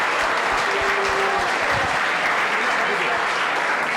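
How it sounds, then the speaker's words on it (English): An audience at a career talk on software engineering breaks into a big round of applause: loud, continuous crowd clapping that holds steady throughout, with a faint hum beneath. "So have a big round of applause for you yourself."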